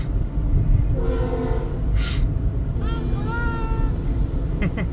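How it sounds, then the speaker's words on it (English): A long freight train passing near a river at Galena, Illinois, with rumbling wheels on rails and several sustained horn blasts, loud and close, with talking heard over it. "It's a nice long train"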